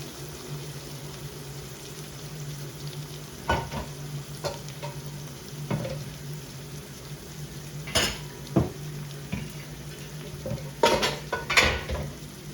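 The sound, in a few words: pots and pans clattering while looking for a lid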